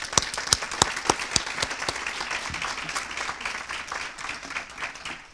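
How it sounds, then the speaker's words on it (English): Applause at an annual organization meeting, beginning with a few sharp, distinct claps near the microphone that thicken into a softer, steady round of clapping from a modest audience. "So please join me in absentia giving a round of applause to Nancy."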